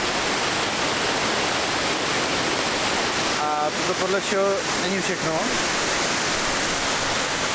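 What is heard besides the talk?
waterfall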